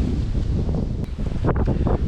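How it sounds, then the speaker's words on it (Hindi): Strong wind roars steadily across the microphone, a loud continuous rumble with brief gusty dips and no speech. "हवा चल रही है बहुत भयंकर, आप लोगों को पता चल ही रहा होगा।"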